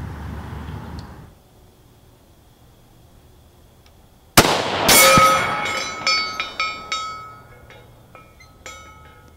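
A single sharp rifle shot fired at a 400-yard target, the loud crack followed by a decaying echo and faint rattles, after a quiet outdoor lull.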